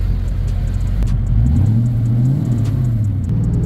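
A Foxbody Mustang convertible engine idling with a deep rumble and rising into a loud close rev before settling back, steady and without talk.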